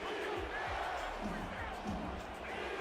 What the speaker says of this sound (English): This Atlanta crowd getting loud for the first time this evening